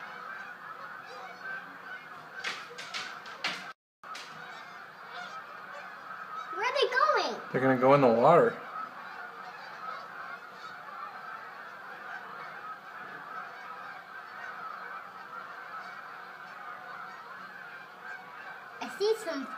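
A flock of geese honks in a short cluster of raucous calls partway through, fairly distant against quiet outdoor ambience, with children's voices chattering nearby.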